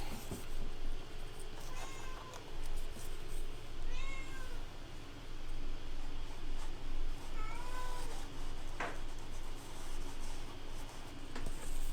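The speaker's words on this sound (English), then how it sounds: "Can you guys hear my kitty?" A pet cat meows several times, soft and fairly close, over a steady background hum with some rustling.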